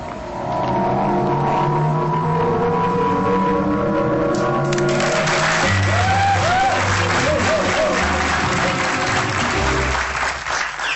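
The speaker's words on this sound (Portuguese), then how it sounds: "vocês agora estão para aí a bater palmas a fazer barulho, pá" Audience clapping and cheering at a Portuguese comedy show, loud and sustained with crowd noise and music running beneath it, the applause swelling midway.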